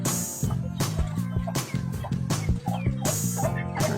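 Large Rhode Island laying hens clucking and calling repeatedly on a small farm, close by and busy, with someone talking over them.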